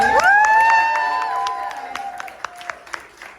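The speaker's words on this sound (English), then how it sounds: "let's give it up for our teacher and DC this weekend's headliner, Megan King." A comedy club crowd at a graduate showcase applauds and cheers for the weekend's headliner. The clapping and whoops are loud and continuous, then thin into scattered claps and shouts as they fade.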